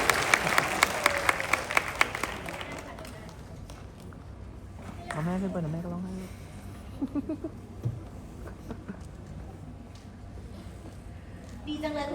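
Applause at a Thai traditional music contest award ceremony: scattered distinct claps for the first few seconds fade out, then someone talks and other voices follow.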